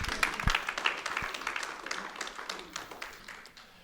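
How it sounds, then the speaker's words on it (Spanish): Church congregation clapping during a sermon, a short, fairly faint burst of applause with a few sharp claps standing out, thinning out toward the end. "Un aplauso para Dios."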